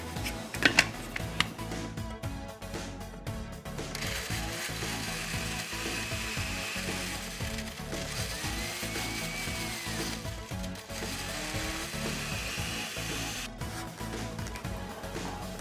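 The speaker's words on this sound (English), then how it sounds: "And now I'm going to blend this together." A blender whirs through a double batch of melon for a drink, a loud, steady mechanical grinding that runs continuously with a few brief dips and stutters.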